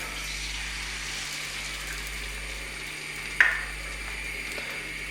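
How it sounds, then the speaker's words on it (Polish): Steady, quiet sizzling of food frying in a hot stone pan, with a brief clink partway through. "Niech nam się smaży."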